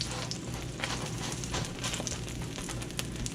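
A Beyond Meat plant-based burger patty fries in a pan, giving a dense, crackling sizzle that pops and spits steadily at close range. The frying stays continuous throughout the short stretch, with no talk over it.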